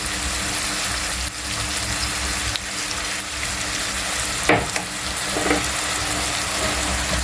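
Onion and calamari sauce with soy sauce frying in a pan for seafood pasta, a steady close sizzle broken by a few short stirring scrapes and knocks, no one speaking.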